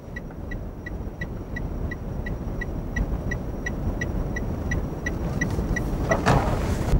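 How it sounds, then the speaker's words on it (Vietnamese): A Toyota Wigo manual hatchback makes a U-turn: a turn indicator ticks at a fast, even rhythm over a steady cabin rumble of engine and road noise. The ticking stops near the end as a brief rustle comes through. "bây giờ tôi sẽ thử quay đầu ở cái vị trí này, xem chiếc xe có cần một đỏ hay không"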